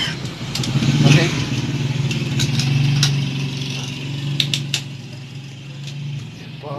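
A Yamaha Mio 125 MXi motorcycle engine runs steadily at idle with a low, even drone, rising briefly and then settling, while its rear wheel fails to drive; a few sharp clicks occur and people talk nearby.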